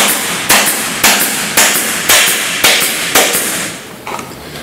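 Upholstery staple gun driving staples into wood with firm pressure, six sharp loud cracks in a steady rhythm about half a second apart, each followed by a short ringing decay, then a softer tap at the end.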